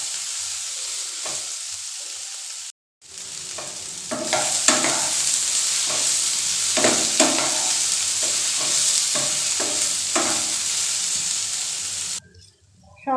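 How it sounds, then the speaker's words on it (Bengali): Soybean chunks fry in a pan with a steady, loud sizzle and intermittent scraping stir strokes, broken by a short pause near the start and ending abruptly near the end. "সয়াবিনটাও ভাজা হয়ে গেছে,"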